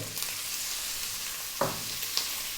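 Chicken pieces go into a hot pan for ginataang malunggay and fry with a steady, close hiss of sizzling oil. A couple of soft clinks from stirring break through.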